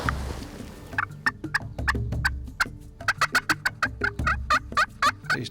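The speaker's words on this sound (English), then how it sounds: "But we got another one gobbling" A wild turkey gobbles on a ranch during a hunt, its rapid rattling gobbles repeating in quick bursts and fairly loud, with other fowl calls mixed in and no talking.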